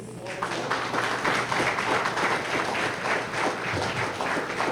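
A church congregation applauds during a worship service, a dense wash of clapping that holds steady and fairly loud throughout, with a few voices mixed in.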